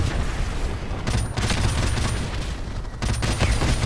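Anti-air artillery fires in Call of Duty Modern Warfare, a dense, loud, continuous barrage of booming gunfire with heavier bursts near the start and end, no talk.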